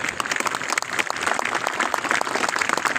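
An audience at a Republic Day gathering of the Jaynagar subdivision administration claps in honour of a freedom fighter, loud, dense, continuous applause filling the whole stretch without speech.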